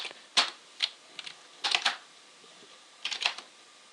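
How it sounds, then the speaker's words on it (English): Someone types on a computer keyboard in short bursts of crisp key clicks with brief pauses between clusters. The sound is close and clear, with no voices. "I can just type whatever I want."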